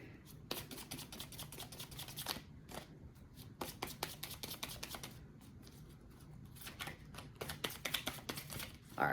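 Quiet, rapid riffling and snapping of tarot cards being shuffled, in several bursts with brief pauses, close by and soft.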